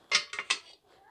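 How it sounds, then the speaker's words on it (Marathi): A metal cooking pot set down on a stove for mutton paya soup: three quick clanking knocks in close succession, close and fairly loud, then fading to quiet with no talk. "आता आपण चुलीवर भांडं ठेवूया."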